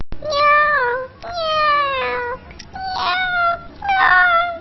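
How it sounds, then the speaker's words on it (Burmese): A cartoon kitten gives four loud, drawn-out meows in a row, each rising then falling, with brief gaps between them. "ဟောဟိုမှာညင်ကြောင်လေးပါလာပြီတွေ့လား"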